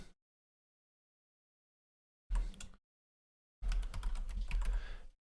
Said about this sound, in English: as soon as you type something in